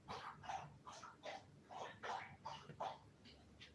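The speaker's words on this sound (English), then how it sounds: "Oh, there's the dog." A dog barks in a steady run of about eight sharp, evenly spaced barks, fairly close and moderately loud, with no talk over them.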